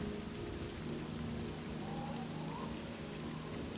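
Heavy rain pours in a video game, a loud unbroken wash of noise with a low rumbling undertone and faint tonal hints, no voices present.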